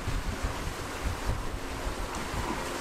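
Gusty wind blowing across a sailboat at sea, with steady surf and water noise and strong wind buffeting the microphone, swelling and easing throughout with no voices.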